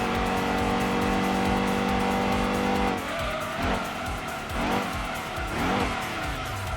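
Gran Turismo 2 racing game audio of a car braking hard: a steady engine drone, then from midway several sharp tire squeals and skids, loud and close, with no talking.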